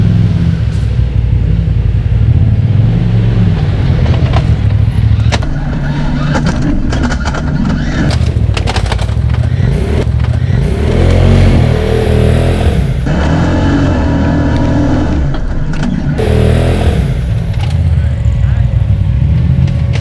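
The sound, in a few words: turbo UTV driving on off-road trail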